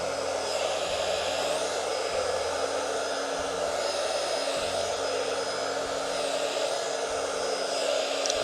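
Blower drying alcohol ink on a painting, a steady loud hair-dryer-like whir with a constant airy roar and faint high whine, running without pause and with no voices.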